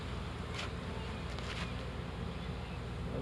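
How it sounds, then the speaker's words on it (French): Honeybees buzzing around an open hive in a full colony, a constant close drone with wind rumble against the microphone and a few brief higher passes of bees near by. "Oui, c'est un bel essaim. Une belle colonie."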